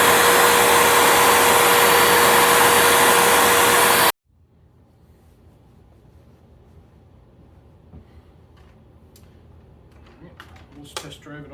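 A vacuum cleaner runs loud and steady with strong suction for about four seconds, then cuts off abruptly, leaving a quiet room with faint handling noises.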